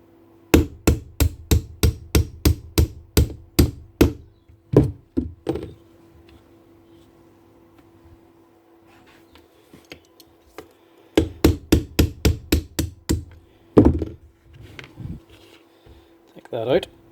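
Someone hammers a pin out of a DeWalt DCS334 jigsaw with two bursts of rapid, evenly spaced sharp knocks, close and loud, separated by a quieter stretch with a few isolated taps.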